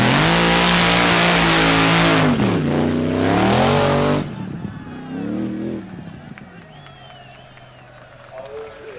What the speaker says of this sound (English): The aim of a drag race is to get an engine to go as fast as possible, as quickly as possible, in a straight line.